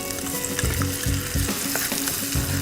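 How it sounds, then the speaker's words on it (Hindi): Tomatoes fry in hot butter with a loud, continuous close sizzle, broken by a few soft rhythmic stirring scrapes in the pan. "ये मक्खन गरम हो गया है। मैं इसमें डालती हूँ टमाटोज।"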